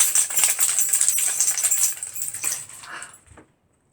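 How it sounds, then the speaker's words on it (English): A bunch of keys jangles close by in a bright, continuous metallic shimmer for about three seconds, then stops into silence. "Jangling my keys."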